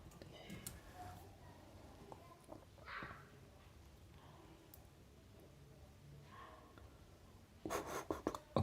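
Pen writing on paper while working a statistics problem, with scratchy strokes scattered through the passage and a louder burst of marks near the end, set against quiet room noise.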